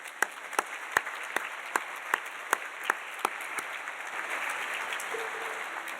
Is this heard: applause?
yes